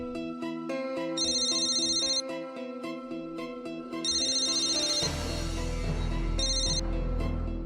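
A phone rings during an outgoing call in a Marathi drama scene, giving a repeating electronic melody in three bursts, clear and alone, with a low rumble entering midway.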